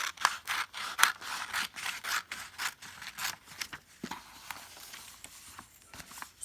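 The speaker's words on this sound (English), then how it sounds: "So then I just cut straight on and I don't have to turn my wrist" Paper pictures being cut with scissors make a steady run of close, crisp snips, one after another in quick rhythm, with no talking.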